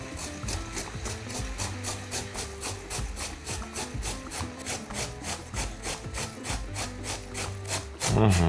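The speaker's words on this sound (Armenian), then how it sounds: "վերցնում ենք մեկ մեծ գազար։ Քերում ենք մեծ անցքերով։" A large carrot is scraped across the big holes of a coarse grater in a home kitchen: steady, rhythmic rasping strokes repeat close up, about two per second, with no talking.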